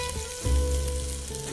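Ginger garlic paste hits hot oil in a pan, a sudden loud burst of sizzling that settles into a steady, close crackle without any voices.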